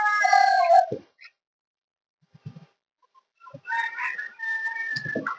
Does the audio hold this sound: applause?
no